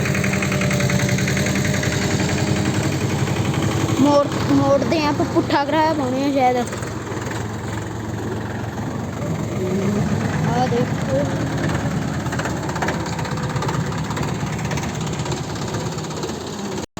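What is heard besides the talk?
tractor engine idling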